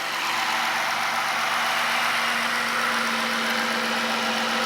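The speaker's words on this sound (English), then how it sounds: "I can hear more of an exhaust note where it was a lot quieter before" A 2014 Dodge Charger V6 engine with a cold air intake idles steadily with a low, even exhaust drone and faint knocking, unchanging throughout and fairly quiet.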